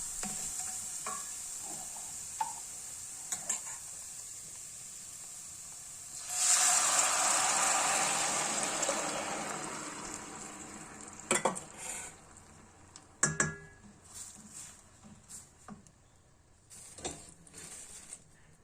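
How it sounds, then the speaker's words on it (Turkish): Walnuts and garlic sizzle and hiss in a hot pan as a utensil stirs and scrapes, with scattered clinks of cookware. "Karıştırmış olduğumuz cevizimizi kavurduğumuz sarımsağımızın içerisine döküyoruz."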